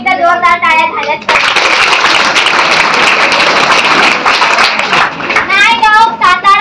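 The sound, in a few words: applause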